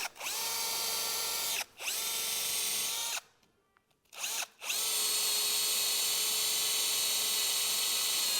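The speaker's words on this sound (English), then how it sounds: "Mark and drill the mounting holes" A power drill whines steadily at high speed drilling mounting holes for a scaffolding guide rail, cutting out briefly twice, then spins up again and runs continuously.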